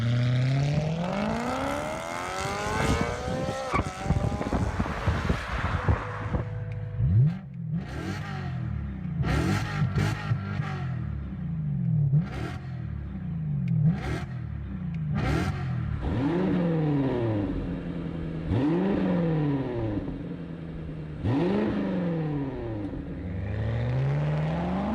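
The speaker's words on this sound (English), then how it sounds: "Here's an example between an E92 M3 and F80 M5, both having V8s," A BMW E92 M3 V8 and a twin-turbo BMW F80 M5 V8 rev their exhausts, with engine notes sweeping up and down through repeated throttle blips and climbs, loud and close, with no speech.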